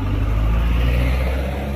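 A car engine rumbles steadily nearby as the vehicle turns on a road, a low continuous drone without clear revving peaks.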